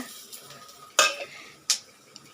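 Onion and garlic sautéing in a pan for chutney: a soft background sizzle broken by two sharp scraping stirs of a metal spoon, close by.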